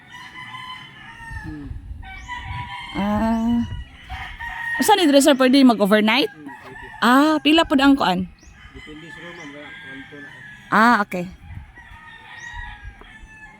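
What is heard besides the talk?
roosters crowing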